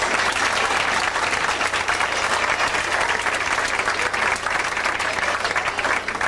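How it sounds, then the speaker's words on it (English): Party guests at a 90th birthday celebration break into steady applause, a dense, even clapping from a room full of people that continues throughout without talk. "we can give them a round of applause if you really want"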